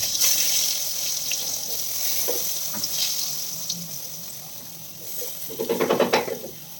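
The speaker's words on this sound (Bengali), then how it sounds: "তো বেগুন ভাজা করবো।" Eggplant frying in oil in a home kitchen, a continuous sizzle with occasional light knocks, ending in a burst of louder crackling and stirring; no talking.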